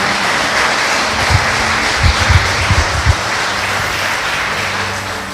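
A church congregation applauds, a loud steady wash of clapping with a few low thuds scattered through it, and no speech.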